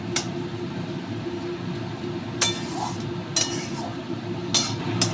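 Pumpkin leaves cooked with lentil paste being stirred in a pan, giving a few sharp metallic clinks of a spoon against the pan over a steady low kitchen hum.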